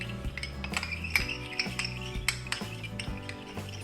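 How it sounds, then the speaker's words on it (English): A spoon stirs a soy sauce and vinegar dipping sauce in a bowl, making quick, rhythmic metallic clinks and scrapes against the sides, close and fairly quiet, with no voices. "And stir them."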